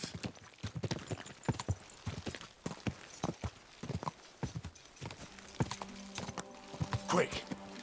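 In Kingdom Come: Deliverance II, a horse's hooves clip-clop on the road in a quick, irregular walking rhythm. Character voices speak over the hoofbeats and a brief tonal note sounds near the end.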